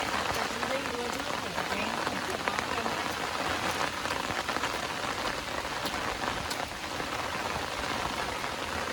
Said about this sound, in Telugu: ఈరోజు అయితే వర్షం మామూలుగా పడట్లేదు